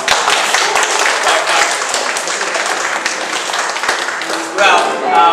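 An audience at a school show claps loudly and steadily, a dense wash of applause that swells again near the end, with a voice talking briefly over it.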